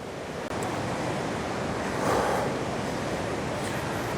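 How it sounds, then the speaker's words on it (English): River rapids near a waterfall at Ba Be Lake, Vietnam, a steady broadband rushing roar heard alone, continuous and fairly loud, swelling slightly midway. "I hear rapids, so It's loud."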